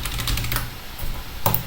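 Quick clicking keystrokes on a computer keyboard with a faulty key, a close run of rapid taps, a pause, then a few more presses, with no speech.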